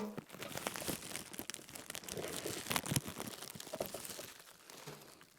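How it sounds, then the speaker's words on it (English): Packing foam pulled out of a shipping box for a 30-watt fiber laser, a continuous close crinkling, squeaking and rustling of foam and cardboard that fades toward the end. "Just have to get all this foam out."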